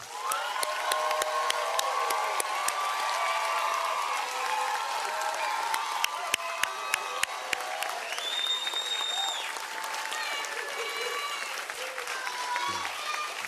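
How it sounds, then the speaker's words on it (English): An audience at a fire rescue graduation claps steadily for about thirteen seconds, a dense sustained round of applause with some scattered cheering, fairly even in level throughout. "let's go ahead and give him a big round of applause"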